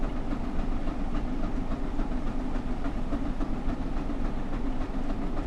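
The Flying Scotsman steam locomotive in a video game runs at speed toward Trenton, a steady, dense rumble and rolling clatter with no pauses and no voices.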